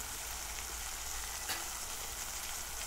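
Bottle gourd and potato curry cooks in hot oil in a pan, making a steady, even sizzle that continues unbroken throughout.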